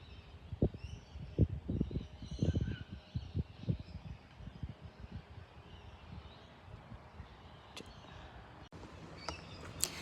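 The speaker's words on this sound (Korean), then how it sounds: "새소리도 들리고" Scattered bird calls and chirps outdoors in a local park near Vaucluse House, Sydney, in winter, moderately faint, over a soft ambient background with a few sharp clicks near the end.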